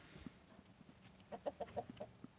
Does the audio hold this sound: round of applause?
no